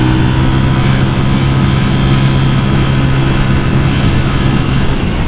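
Steady, loud engine drone from a Honda Vario 180cc scooter on its standard exhaust while riding, with a constant low hum buried in heavy wind noise and no pauses.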